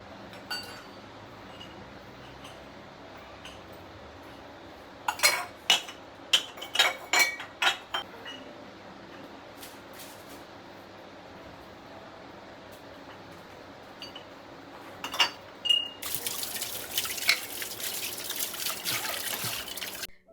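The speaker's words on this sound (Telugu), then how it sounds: "గ్లాస్ జార్స్‌ని వాష్ చేయడం చాలా ఈజీ." Glass jars clink and knock together during washing, in a burst of sharp clinks near the middle and more later, over a steady trickle of water. The clip ends with a running tap or splashing water.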